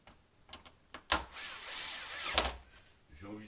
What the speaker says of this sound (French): je suis équipé d'une perceuse, c'est perceuse visseuse dévisseuse.